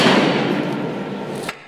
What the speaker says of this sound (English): now let me turn up the volume so you can hear the cool sound effects in the background when you buy the door